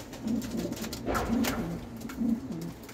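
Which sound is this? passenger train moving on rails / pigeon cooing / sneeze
pigeon cooing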